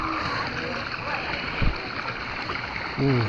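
Water from a spout pours steadily into a hot spring pool at Guci, Tegal, a continuous rushing splash close by, with brief voices talking over it.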